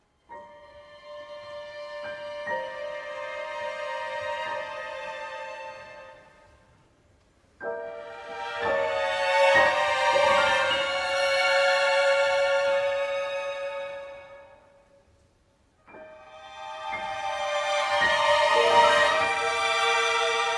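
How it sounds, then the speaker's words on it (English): Full orchestral music swells and recedes in three broad waves, strings and winds building to rich peaks before thinning out, with no voices. "Let's hear how that sounds in the orchestral version."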